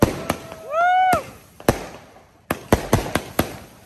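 Fireworks at a July 4th Independence Day celebration in America: a whistling rocket rising, then a series of sharp, loud bangs and pops at irregular intervals, echoing nearby.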